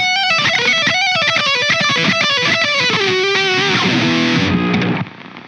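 Heavily compressed distorted electric guitar from a twenty-year-old amp modeler, a loud, dense run of notes with steady sustain that cuts off abruptly near the end.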